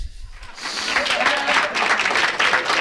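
Applause from a small audience at a talk show, a short burst of steady clapping that rises after a brief pause, with a voice briefly over it.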